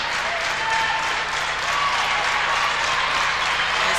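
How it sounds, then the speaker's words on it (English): A home crowd at a 1995 IPFW women's basketball game against Saint Joseph's sends up a loud, sustained wash of applause and cheering, steady throughout. "Crowd getting behind IPFW."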